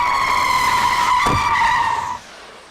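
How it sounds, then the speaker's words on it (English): Car tires skidding with the wheels locked under hard braking: a loud, sustained high-pitched screech that holds steady for about two seconds, then cuts off abruptly into quiet. "When you come down, brake the car and lock the wheels, there's no way you can avoid whatever that is."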